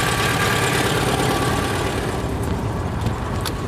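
A Citroën 2CV's small engine idles steadily up close, a continuous low rumble with a buzzing vibration, easing slightly after the throttle is turned down on a road trip to Scotland.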